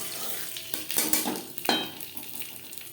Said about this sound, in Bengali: পনেরো কুড়ি সেকেন্ড পাঁচ ফোড়ন ভেজে নেওয়ার পর দিয়ে দেবো আদা কাঁচা লঙ্কা ও টমেটোর পেস্ট